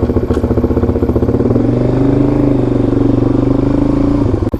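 Motorcycle engine fitted with an FCR39 carburetor running loud and close after starting, a rapid pulsing idle with a slight rise in pitch partway through and a clattering tone, then cutting off abruptly at the end.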